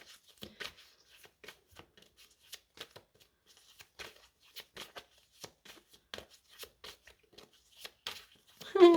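Tarot cards are shuffled in repeated short riffling bursts, crisp and close, with brief pauses between them and a soft thump at the end.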